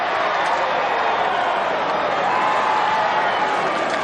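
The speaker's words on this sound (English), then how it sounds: "And getting the boos from the crowd." A stadium crowd at a 1995 AFL match between Fremantle and Footscray gives off a continuous, broad roar of booing and noise that holds at an even, loud level throughout.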